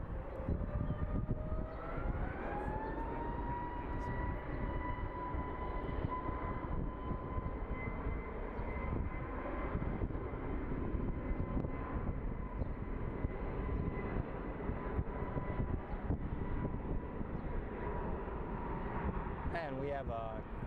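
A Southwest airliner arrives at Phoenix Sky Harbor airport, heard as a steady, loud jet engine roar with a rising whine that levels off and persists throughout while people talk softly in the background.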